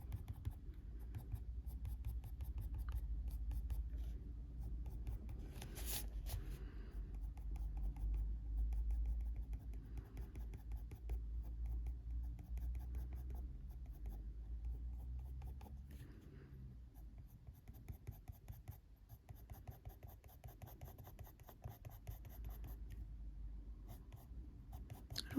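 Colored pencil shades the shadow under a drawn apple on paper: soft, steady scratchy strokes close up, a continuous rubbing texture with short pauses and no talking.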